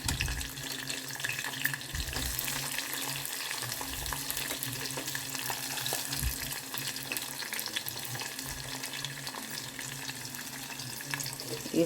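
Lentils and fresh coconut fry in oil in a pan, a continuous dense crackling sizzle that stays steady and fairly loud throughout, close up with no talk.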